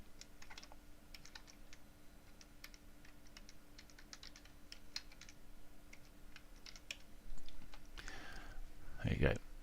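Light, quick keystrokes on a computer keyboard tap in an irregular run, fairly faint and close, followed by a louder rustle near the end.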